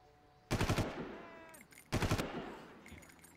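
Two bursts of rapid automatic gunfire from the video game Far Cry, each about half a second long and separated by a pause of around a second. Both are loud and close, and each is followed by a fading echo.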